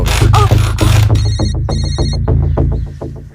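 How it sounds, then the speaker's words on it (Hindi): A telephone rings loudly, a bright repeating electronic bell pattern in short bursts close to the listener, with no one speaking. "विक्रम, लगाओ हीरो को फोन लगाओ"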